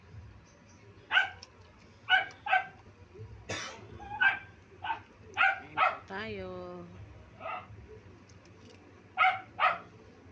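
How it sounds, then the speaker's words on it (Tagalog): A neighbor's dog barks in short separate bursts at a moderate distance, heard under someone talking in a home kitchen while mung bean soup with pork bones is served. "Kaingay ng aso na kapitbahay namin."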